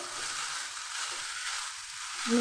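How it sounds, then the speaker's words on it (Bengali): Broken rice grits sizzle steadily as they are stirred and fried in a pan, a close, even hiss running throughout with a faint tonal squeak near the end. "এভাবে নেড়ে নেড়ে একটু ভেজে নেব"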